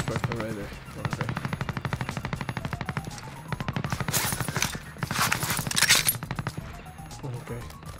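Call of Duty Warzone gunfire rattles in rapid automatic bursts, loud and close, with a few heavier shots and shuffling movement between them.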